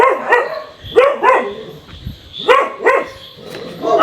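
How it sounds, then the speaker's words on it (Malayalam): Several dogs bark at night outside a house in Kadanad, Pala, in repeated overlapping bursts of barks and yelps, fairly close and loud, with no talk over them. "ഡോഗുണ്ട്, കൂട്ടക്കരച്ചിലാണ്."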